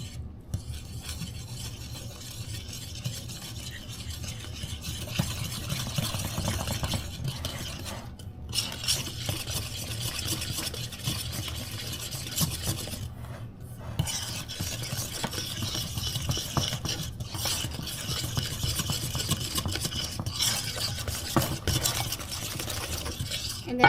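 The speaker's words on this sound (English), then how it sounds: "And then I'm just going to mix it up." Food stirred and mixed in a bowl while cooking dinner, a steady scraping swirl that continues close and fairly quiet, with brief pauses along the way.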